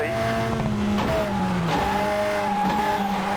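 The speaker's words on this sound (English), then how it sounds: "Can't quite get that handbrake turn how I want it yet." A rally car in a racing video game skids through a handbrake turn, engine droning loudly while tires squeal and scrub in wavering tones, steady and close throughout.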